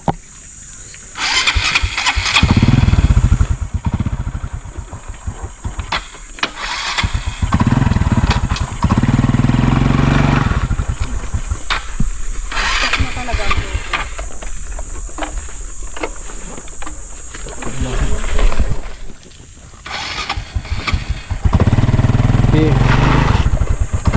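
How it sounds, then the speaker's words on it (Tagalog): Motorcycle engine revs and strains in repeated loud bursts as the bike tries to climb a slippery, unpaved mud road, with people talking over the noise between the surges. "Ilang beses din itong sinubukan paandarin upang makarating ito sa taas, ngunit dahil nga sa dulas ng putik ay halos hindi ito gumugulong."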